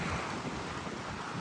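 Strong wind blowing outdoors, rustling tree leaves as a dense, continuous roaring hiss with heavy buffeting against the microphone, with no voices.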